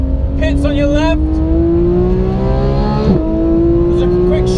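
A car drives a lap of Anglesey Circuit, its engine note climbing steadily through the gears with a loud, close, continuous drone and a brief shift midway, under a voice talking.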